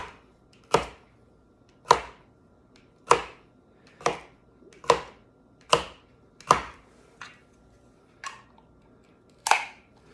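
A knife chops grapes for a fruit salad on a cutting board, with about nine crisp, evenly spaced chops ringing out close by in a quiet room.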